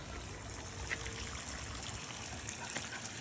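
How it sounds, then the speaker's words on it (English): Continuous rushing and trickling water as a duck pond is pumped out, a steady wash of flowing liquid with no voices. "We're pumping all the water out and putting fresh water back in."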